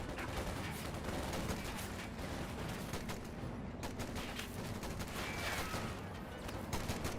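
Rifle squad gunfire in Company of Heroes 2, dense overlapping volleys of shots crackling continuously against a rumbling battle backdrop, no voices heard.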